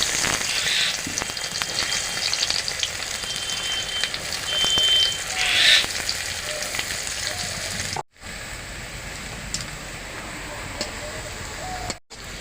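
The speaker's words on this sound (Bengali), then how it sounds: "আমি পেঁয়াজটা লাল লাল করে ভেজে নেব।" Chopped onions fry in white oil in a hot kadai for chicken biryani, a dense, steady close-up sizzle running throughout, with a few brief quiet breaks and occasional clinks.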